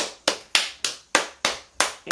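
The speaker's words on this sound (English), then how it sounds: "And stop clapping." Children clap together after a countdown, seven sharp, fairly loud claps in an even rhythm about a quarter-second apart, close by and with no talking.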